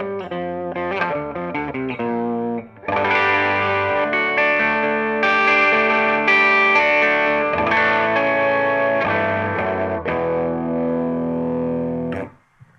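Electric guitar run through a Fractal FX8 fixed harmony effect, loud and alone: a quick run of single notes, then sustained harmonized chords and lines with a distorted, layered tone that ring out and stop.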